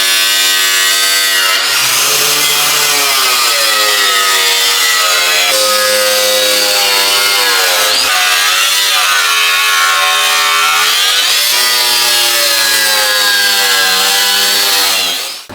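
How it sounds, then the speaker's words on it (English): Wire wheel grinding a steel truck frame weld surface on a 2005-or-later Toyota Tacoma, a loud continuous high-pitched power tool whine that dips and rises in pitch as it bears down on the metal, with no talk. "we're going to go ahead and wire wheel the frame."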